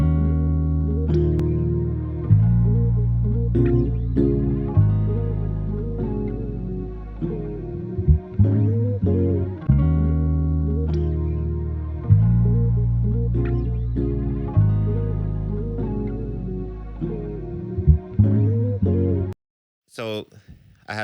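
A produced hip-hop beat built around a sample, with chorus and distortion effects, panning and the main melody layered over a steady low bass pulse, playing loud and continuous before cutting out briefly near the end.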